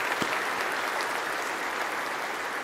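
An audience claps in dense, steady applause that fills the whole moment without voices on top.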